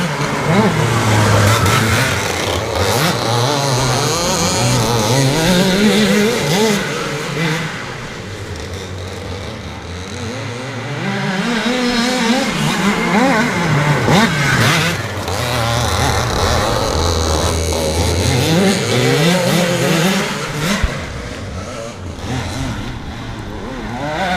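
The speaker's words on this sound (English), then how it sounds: "So we're down to 2 karts out of 5, but here we go." Dirt karts racing on a speedway-style track, engines revving and dropping in repeated rising and falling sweeps as they chase around the corners, loud and continuous for the whole stretch.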